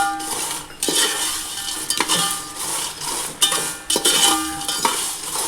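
Whole spices, cinnamon sticks and star anise, dry-roasting in a pan for Malvani masala, rattling and scraping as they are stirred, with repeated sharp clinks of a metal spoon against the pan, close and clear.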